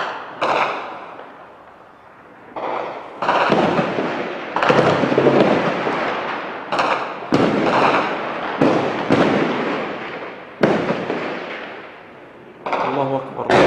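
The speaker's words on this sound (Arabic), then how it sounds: "اطلاق نار بشكل عشوائي" Repeated loud, booming bursts of random gunfire ring out irregularly in Daraa al-Balad, Syria, some echoing, with a continuous noisy background and voices mixed in between the blasts.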